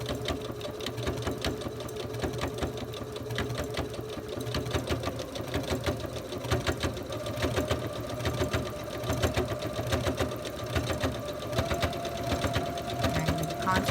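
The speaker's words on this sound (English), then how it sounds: "I'm going to start sewing along the edge" A sewing machine runs steadily while stitching along the edge of a quilt block for quilt-as-you-go sashing, its rapid needle chatter continuous and close with a low motor hum throughout.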